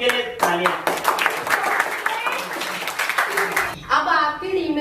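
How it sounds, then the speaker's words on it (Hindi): Group clapping for the winning team at an office Diwali celebration at Edoro Technologies, a dense burst of hand claps running throughout with voices talking and cheering over it. "विनिंग टीम के लिए तालियां।"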